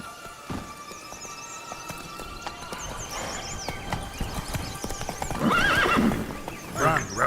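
Roach, the horse in The Witcher 3 video game, neighs loudly and close toward the end while hooves clip-clop in a steady run underneath.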